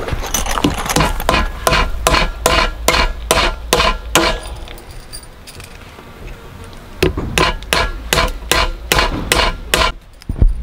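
Hammer blows drive wooden fence posts into sand for a poultry run, a steady run of sharp, loud strikes, a pause with quieter handling noise, then another regular burst of blows close by.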